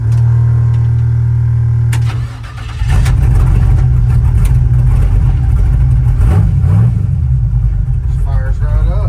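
A carbureted 5.3 LS V8 cranks over and fires at about two seconds, then settles into a loud, steady idle with a few revs. People talk over the running engine throughout.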